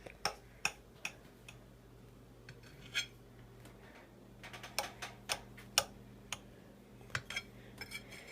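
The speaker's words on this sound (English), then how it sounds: "And now it's time for me to cut the cake." A knife cuts through a rustic Fourth of July flag cake, giving sparse, irregular clicks and taps as the blade meets the plate, fairly quiet, with no talking.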